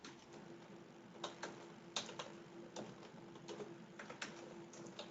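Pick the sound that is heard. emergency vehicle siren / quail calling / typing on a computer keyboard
typing on a computer keyboard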